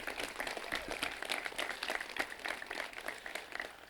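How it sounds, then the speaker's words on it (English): An audience applauds a student at a high school graduation ceremony, a faint steady round of clapping heard from a distance. "Yes, let's clap for him."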